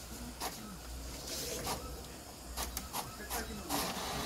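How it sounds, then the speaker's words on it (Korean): An Epson WF-C5790 inkjet printer prints an image, giving a steady mechanical whir and hiss with repeated swishing passes of the print head, close by and continuous throughout. "지금 이미지 파일을 출력을 하고 있는데요."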